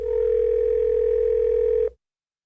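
A steady telephone dial tone hums loud and unbroken for nearly two seconds as a call is placed, then cuts off abruptly into silence.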